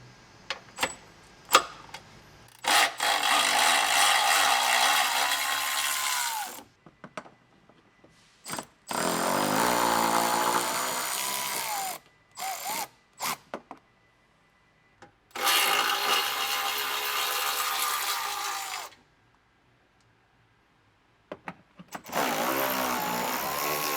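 A power tool, likely an impact driver, whirs in several long bursts separated by pauses while removing bumper bolts on a Toyota 4Runner, loud and close, with short clicks and rattles between runs.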